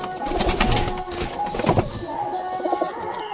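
Giribaz pigeons coo in a loft, their low throaty calls overlapping in a busy, close chorus with some rustling and wing movement.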